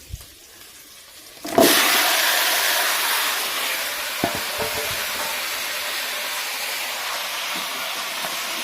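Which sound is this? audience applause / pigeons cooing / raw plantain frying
raw plantain frying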